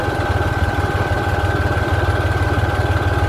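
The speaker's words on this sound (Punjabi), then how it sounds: "ਲੈਣ ਬਿਲਕੁਲ ਛੋਟੇ ਗੇਅਰ ਦੇ ਵਿੱਚ ਸਪਰੇ ਕਰ ਰਹੇ ਆ" A tractor in low gear runs steadily while spraying an orchard, its engine giving a loud, continuous, throbbing hum close by with a constant pulsing rhythm and no talk.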